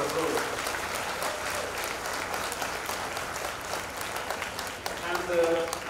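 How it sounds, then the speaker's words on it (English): Schoolchildren and guests at Vighyor High School applaud together for Afroz Shah in a steady, moderately loud round of clapping that lasts about six seconds, with a voice briefly audible near the end. "So can we get a round of applause for Afroz?"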